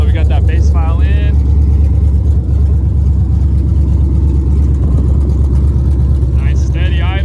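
Dodge Scat Pack with a 6.4 Hemi and stage 1 cam idling loudly on open headers, a heavy, steady rumble filling the whole clip with brief voices over it at the start and end.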